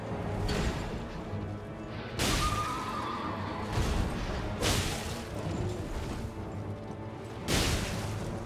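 A horse neighs in the video game Elden Ring amid combat, with sharp crashing impacts and booms punctuating the scene at irregular intervals, fairly loud with no talking.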